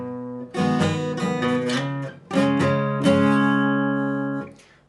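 Electric guitar running through the tenth part of a song intro at full speed, a continuous flow of strummed chords and hammered notes, close and clear, with the last chord left ringing out.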